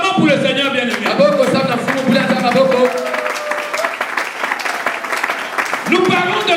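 A church congregation claps and cheers for the Lord during a sermon, loud mixed applause and voices rising in waves, with a preacher's voice carrying over the crowd.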